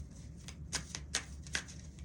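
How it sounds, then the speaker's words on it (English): Tarot cards being shuffled by hand, giving a series of soft, crisp riffling flutters in a quiet room, about five distinct bursts at an irregular pace. "I'm just shuffling these a little bit."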